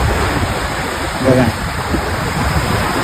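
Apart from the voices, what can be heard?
sea waves on a beach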